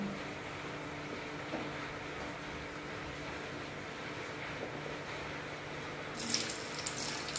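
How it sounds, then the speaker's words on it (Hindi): French fries sizzle in hot oil with a steady, faint, hissing bubble that continues evenly throughout, with a brief clatter near the end. "ये गरम हो चुका है, बबल्स आ रहे हैं। अब हम इसमें फ्राइज डालेंगे।"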